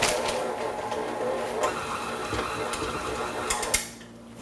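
A mixer straining as it churns thick chocolate chip cookie dough, with a close, continuous labored mechanical whir and knocking clatter that cuts off near the end.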